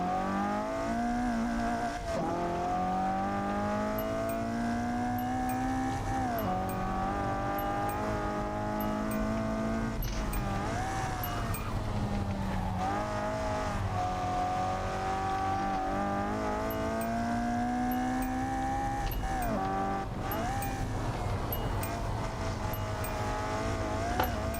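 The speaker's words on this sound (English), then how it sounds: "Let me do some cool drift for the preview picture" A Toyota AE86 drifts in a racing video game, its engine droning and revving steadily while the tires squeal through long slides, rising and falling pitch across the run with no talk.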